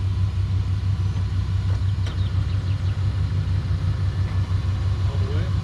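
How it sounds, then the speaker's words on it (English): A 1984 Chevy truck's engine is cranked over with a steady, rhythmic low rumble close by, continuing evenly without catching or firing. "All right, we just crank it over."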